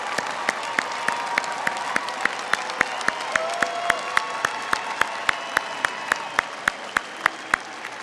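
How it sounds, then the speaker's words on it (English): Broad applause from a commencement crowd at the Fulbright College of Arts and Sciences, with a few sharp, rhythmic claps standing out close by over the steady wash of distant clapping. "let's give them a round of applause"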